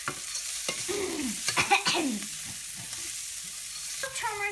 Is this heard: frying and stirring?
yes